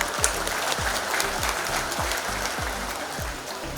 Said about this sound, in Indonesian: Tepuk tangan para UMKM.